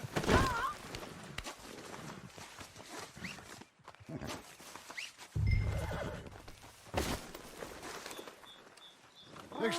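A horse in Red Dead Redemption 2 gives a loud whinny at the start, followed by hoof clops and scuffling and quieter game sounds, with a voice speaking briefly.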